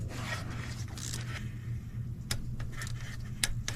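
A torque wrench gives a few sharp, isolated clicks while bolts are tightened during an oil cooler, turbo and intake manifold installation on a Sprinter van, among quiet rubbing and handling noises.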